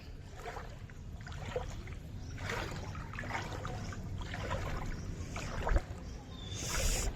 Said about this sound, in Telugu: ఇప్పుడైతే మనం ఆ వాటర్లోకి వెళ్తున్నాం.